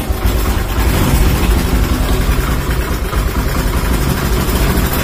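A long-parked motorcycle engine idles steadily up close after a repair stopped a ticking knock, a continuous low rumble with a fast, even throb and no other sounds for the whole stretch.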